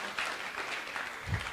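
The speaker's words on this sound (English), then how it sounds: "Give yourselves a round of applause for joining us." Audience applause at a university entrepreneurship day event with student presentations: a steady wash of many hands clapping in a hall, moderately loud and continuous throughout.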